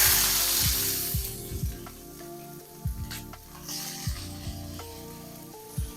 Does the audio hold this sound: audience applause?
no